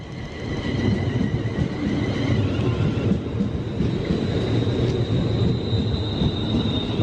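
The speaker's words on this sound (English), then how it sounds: "This is our train to take us back as far as Rugby" A passenger train rumbles steadily along the line toward Rugby, a loud low roar with a faint high whine running through it, continuous and close.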